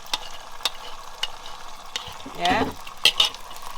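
Whisked egg omelette mixture sizzles steadily in a hot frying pan while it is stirred and scraped around, and a voice speaks briefly.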